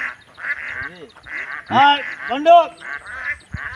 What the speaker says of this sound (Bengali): হাঁস চলে যাচ্ছে